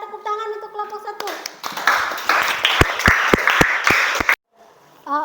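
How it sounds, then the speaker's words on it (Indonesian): Students in a classroom clap for a presenting group, starting with a teacher's voice, then a burst of close, sharp handclaps with distinct slaps that stops abruptly, followed by brief talk. "Jadi berikan tepuk tangan untuk kelompok 1."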